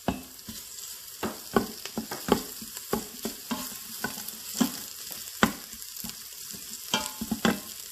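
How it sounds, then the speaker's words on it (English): Steady hiss of onions frying in a pot with repeated clinks and scrapes of a spoon stirring, fairly close, no talking. "After frying the onion for a couple of minutes"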